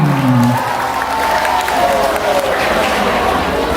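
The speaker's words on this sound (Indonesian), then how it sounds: "Tepuk tangan untuk kita semua." Applause from a school audience at an Isra Mi'raj commemoration fills the hall, steady and fairly loud, with a voice and crowd murmur mixed in.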